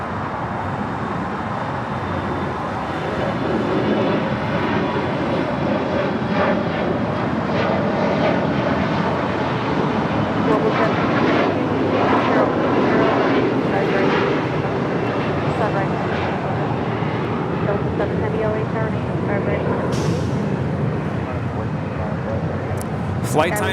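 A jet airliner engine roars steadily at LAX airport, loud and sustained throughout with a broad rushing rumble, as people talk in the background.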